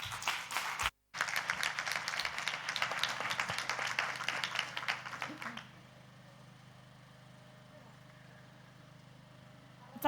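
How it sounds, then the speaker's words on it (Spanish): An audience at an indoor Podemos campaign rally in Portugalete claps for about five seconds in a dense, sustained burst, then the room drops to a quiet hush. "Un aplauso."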